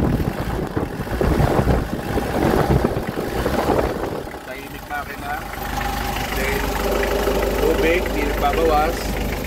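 A 1998 Mitsubishi L300 van engine idles with a low, steady hum, close to the microphone, while someone talks over it early on.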